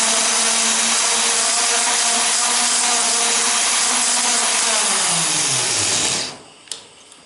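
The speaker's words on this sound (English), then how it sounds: "I have to keep my stones dressed and clean to get a nice cut in the head" A valve seat grinding stone cuts into a cast iron cylinder head, a loud, steady high-speed whine with a rough grinding hiss that holds for about six seconds, then winds down in pitch and stops, followed by a faint click.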